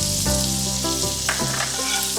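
Garlic sizzles in heated fat, a bright continuous frying crackle with a few soft clinks of utensils against the pan, close and fairly loud.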